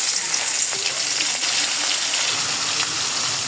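Rohu and tilapia fish pieces, including rohu heads, fry in hot oil in a wok, giving a steady, dense sizzle and crackle that runs the whole time with a few brief pops and no talking.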